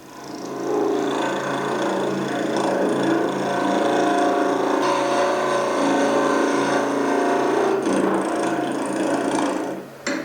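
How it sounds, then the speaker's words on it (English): A tool scrapes hard resin on a wooden tool handle spinning on a lathe, producing a loud, continuous rough grinding whir that holds steady for about nine seconds before dropping away. "And the resin is hard, so I'm going to change tools. I'm going to start scraping here."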